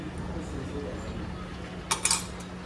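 A spoon stirs mint paste with garlic and chilli in a bowl, giving a few quick metallic clinks near the end over a quiet room background.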